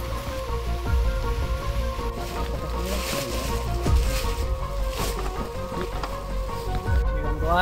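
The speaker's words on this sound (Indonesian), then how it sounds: "situasi terkini turun hujan, gerimis lah" Light drizzle patters steadily through a forest, with a continuous wash of drops on surfaces and faint mechanical tones underneath, fairly close and unbroken.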